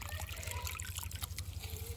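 Water trickles steadily and close by while hands are washed outdoors, a continuous running stream with a low hum underneath.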